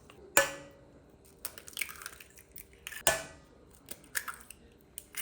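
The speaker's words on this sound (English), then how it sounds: "Next goes in 3 eggs." Three eggs cracked into golden caster sugar in a mixing bowl for a sesame lime cake, with two sharp cracking taps followed by soft wet plops and light clinks, close and clear with no talking.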